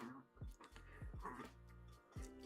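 A small dog sniffles and whimpers in short, soft bursts close by, with some faint squeaky whines spread across a couple of seconds in a quiet indoor room.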